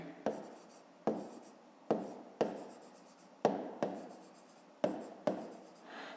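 Pen writing a math answer by hand on paper, a string of sharp close taps and short scratchy strokes in an uneven rhythm, quiet and alone.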